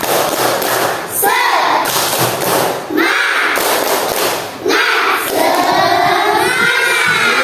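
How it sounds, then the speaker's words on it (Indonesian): A school class claps a rhythmic spirit clap in unison with loud bursts, mixed with children's voices and cheering in a lively classroom. "Ya, 1, 2, 3. Tepuk semangat."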